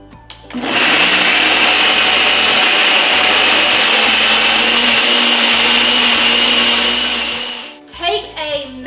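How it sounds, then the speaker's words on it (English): Blender blending honey, starting up after a brief clunk and running loud and steady for about seven seconds with a high whirring whine, then cutting off with a few clatters at the end. "Put this on the blender."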